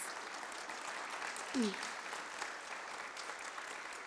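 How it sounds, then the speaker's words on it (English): Audience applause for conference organisers at a planetarium association business meeting, a steady, fairly faint wash of clapping lasting several seconds with a brief voice-like sound midway. "Let's give them all a big round of applause."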